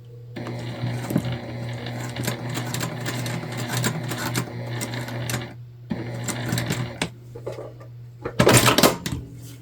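A sewing machine stitches fabric for a shoulder bag in steady whirring bursts with brief pauses between runs, ending in a sharper clattering burst, close and clear with no talk.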